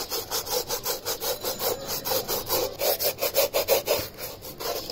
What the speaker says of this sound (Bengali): আগে প্রথমে ব্রাশ দিয়ে এভাবে করে ঘষে দিচ্ছি